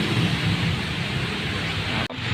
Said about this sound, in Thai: ดูดิครับ ฝนตกหนักนะครับ